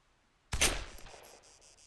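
Gunfire in the military video game ArmA: a single sharp shot or short burst, crisp and fairly close, followed by a brief trailing echo and faint ringing tail.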